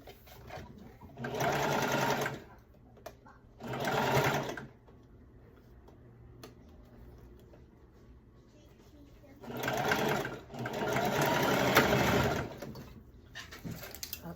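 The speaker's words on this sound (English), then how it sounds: "So I sew one shoulder together." A sewing machine stitches the shoulder seam of a two-piece skirt set, whirring in two bursts of about two seconds each, then a longer run, with pauses between and a little quiet noise in the gaps.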